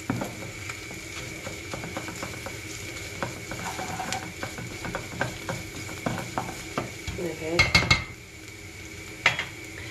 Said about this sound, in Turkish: Şimdi şöyle yarım tatlı kaşığı domates, yarım tatlı kaşığı biber salçası ekliyorum. Bir de onunla şöyle karıştırıyorum.